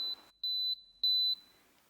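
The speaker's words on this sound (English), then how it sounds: "when that hour is up, the unit will beep, letting us know that the cooking time is complete" A Russell Hobbs Master Slow Cooker & Sous Vide unit beeps as its cooking time completes while making crème brûlée in mason jars, giving two loud, clean electronic beeps spaced about half a second apart.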